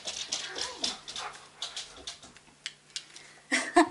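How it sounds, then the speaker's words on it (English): Dogs whimpering and yipping during rough play indoors, with short high whines and scuffling bursts scattered across the clip, loudest near the end. "All right, dogs, you want to chill out now?"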